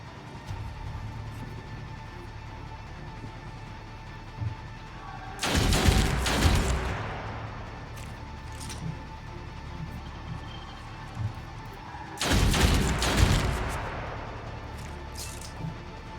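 Two loud bursts of gunfire crack out in the video game Othercide, each a dense volley lasting about a second and a half, separated by several seconds of quiet ambient background.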